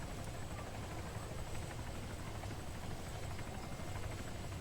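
A helicopter in the military video game ArmA 3, heard as a steady, quiet rotor and engine drone that stays constant from start to finish without other events.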